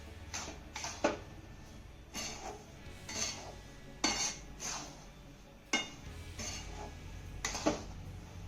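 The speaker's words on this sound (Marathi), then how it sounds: "आता ही घातलेली साखर ना चांगली मिक्स करून घ्यायची आहे" Sugar is stirred into roasted semolina in a pan on the stove, with a spoon scraping and clinking against the pan in irregular bursts over a quiet background.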